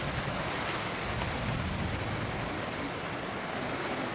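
Steady, loud broadband roar of strong wind buffeting the microphone, continuous throughout with no voices.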